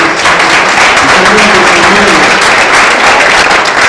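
A church congregation claps together in praise during an evangelical sermon, a loud, dense and steady burst of applause that fills the room for a few seconds and then cuts off abruptly.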